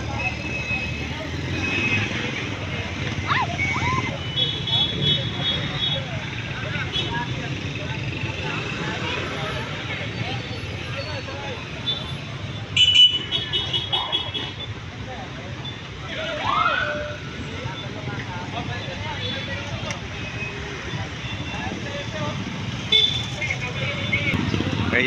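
Road traffic in Sta Mesa: a continuous rumble of engines and passing vehicles with occasional horn-like bursts, under people talking throughout.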